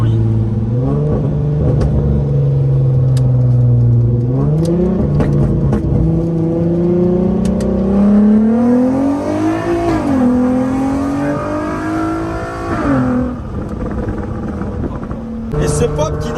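A car engine revs hard and climbs repeatedly through several loud, sustained accelerations, with crackling exhaust pops at the tail as the revs fall away, heard close and overpowering.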